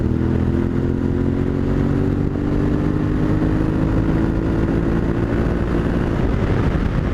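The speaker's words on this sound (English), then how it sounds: "Now, if I go ahead and drop the gear and open the throttle" Yamaha Tenere 700 motorcycle, a 2021 model, accelerating after a downshift with the throttle opened: a loud, continuous engine drone with rising pitch and heavy wind rush, close and steady throughout.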